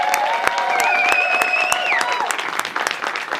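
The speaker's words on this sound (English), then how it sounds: "I will permit a hearty round of applause for Mr. Brandon Scott Jones." A hearty round of applause from a live audience welcoming a guest onto a comedy talk show; brisk, close clapping with sharp individual claps, over a background of sustained tones.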